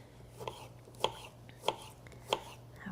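A knife cuts a tangerine on a cutting board with four crisp, separate chops spaced about half a second apart, close and fairly quiet over a low background hum.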